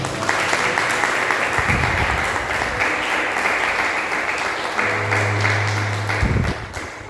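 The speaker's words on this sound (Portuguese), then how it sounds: "Aplauda você enquanto ela vem, enquanto toma água." A church congregation applauds steadily for several seconds, a dense, loud wash of clapping with a low hum and faint background voices underneath, tapering slightly near the end.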